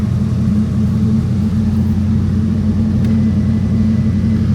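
A 1969 Ford Mustang Fastback engine idling steadily just after starting, a close, loud, even rumble that holds without pause.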